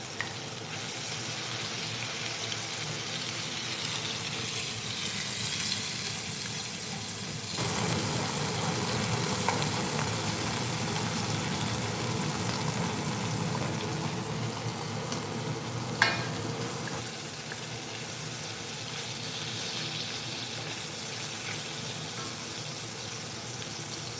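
A wooden spoon works through a braising chuck roast in a pan, giving a continuous bubbling sizzle with soft scraping and one sharp knock midway, close and steady throughout with no talking.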